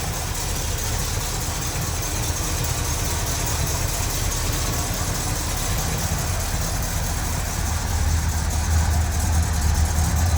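Steady close idle from a 1970 Oldsmobile Cutlass Supreme convertible's 455 big block V8 with dual exhaust, a continuous low rumble that thickens slightly toward the end.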